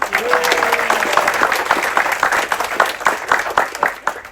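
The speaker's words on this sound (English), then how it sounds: "big applause for our massage therapist, Eleni." Audience applause at a crew introduction celebration aboard the river cruise ship Amadeus, greeting the ship's massage therapist; dense, steady clapping from a nearby crowd that thins toward the end, with brief voices mixed in early.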